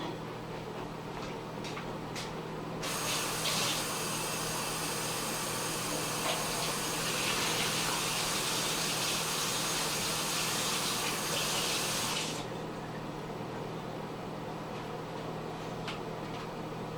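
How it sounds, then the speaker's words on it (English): Sirloin steak rinsed under a running kitchen tap, a steady broadband gush of water that starts abruptly, runs evenly for about ten seconds, then cuts off, with no talking. "let's rinse our steak off first."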